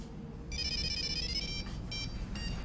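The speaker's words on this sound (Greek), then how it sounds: "Κινητό." A mobile phone ringtone plays nearby, a bright electronic melody that sounds steadily for about a second, then breaks into shorter bursts over a low background hum.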